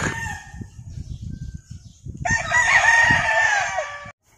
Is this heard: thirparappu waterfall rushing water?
no